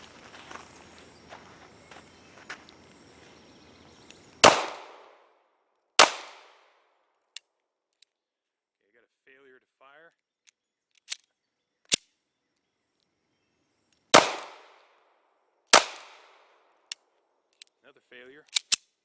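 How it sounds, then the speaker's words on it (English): Sharp gunshots from a S&W BodyGuard 380 pistol ring out singly at uneven intervals, loud and close, with a pause partway through and faint handling noises between shots. "Shoot off 7 rounds, reload, shoot off 6 rounds."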